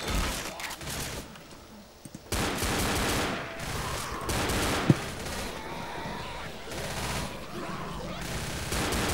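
Rapid bursts of gunfire from an unlimited-ammo weapon in the video game Left 4 Dead, repeated shots mixed with in-game effects, moderately loud under a voice talking in German.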